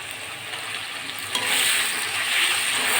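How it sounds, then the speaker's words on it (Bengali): Masala and potatoes fry in a pan for a tilapia fish curry, a close, continuous sizzle that swells louder after a brief scrape and keeps going without any voice. "আমি মশলাটা ভালো করে আলুর সঙ্গে কষিয়ে নেব"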